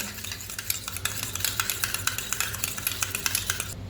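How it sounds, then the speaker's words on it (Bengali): Eggs with turmeric and salt for an omelette are whisked briskly in a bowl, producing a steady run of quick clinking stirring strokes, close and fairly loud, with no voices. "এবার এটা আমি ভালো করে নেড়ে নেব।"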